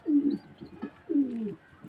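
Madrasi pigeons coo close by, two soft throaty rolling calls about a second apart, with faint chirps in between and no talking.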